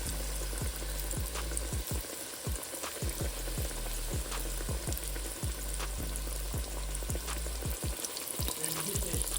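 Chicken-fried chicken with a thick crust fries in hot oil, giving a steady, close sizzle throughout with repeated low thumps and knocks from the pan, and nobody speaks.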